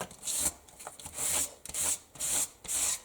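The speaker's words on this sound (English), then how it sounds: "This is a sanding block, so I'm just taking some of it off" Rhythmic rasping strokes of a sanding block rubbing across a paper journal page, about six back-and-forth passes, close and fairly quiet.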